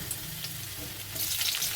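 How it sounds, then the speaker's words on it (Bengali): Green chillies fry in hot oil, giving a continuous close sizzle that swells into louder, busier crackling near the end. "কাঁচা লঙ্কাগুলো ফাটিয়ে নিয়েছি"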